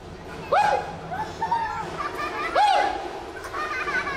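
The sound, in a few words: ventriloquist imitating a dog barking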